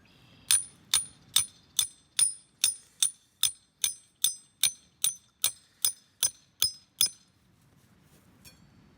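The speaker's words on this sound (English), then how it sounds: "you use your hammer or trowel or whatever you've got here to pound it into the ground straight" A metal earth anchor stake is driven into the ground for a coyote trap with about fifteen sharp, evenly spaced hammer blows ringing close and loud, then stopping.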